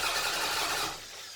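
Toyota Camry with a suspected spark plug fault cranking and trying to start, a loud broadband whirring burst that drops off after about a second, close by.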